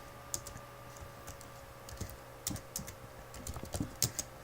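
Fingers type on a computer keyboard in quick irregular bursts of light clicks, close and fairly quiet, entering labor details on an invoice.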